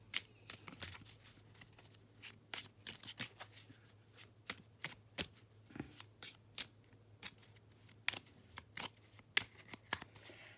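Tarot cards shuffled by hand at close range: irregular bursts of crisp riffling and soft card slaps, some brief and some longer, with no voice over them.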